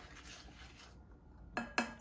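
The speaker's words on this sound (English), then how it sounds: "I'm gonna give that a stir." A spoon stirring allspice in a pot, heard as two short, close metallic clinks near the end after a quiet, low-level stretch with no speech.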